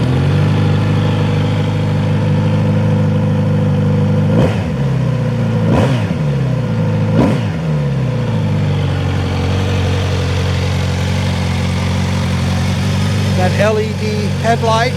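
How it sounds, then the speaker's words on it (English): A 2018 Kawasaki Z900RS motorcycle engine idling steadily and loud nearby, with three sharp throttle blips in quick succession before it settles back into a smooth, even idle, a voice talking briefly near the end. "Let's go ahead and crank her up for you."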